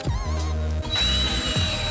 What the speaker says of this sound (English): Then I drilled out the holes, 4 in each bracket.